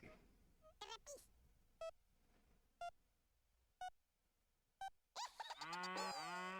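In the Worms Armageddon video game, a series of short evenly spaced electronic beeps counts down before the cow weapon lets out a loud, drawn-out mooing cow sound near the end.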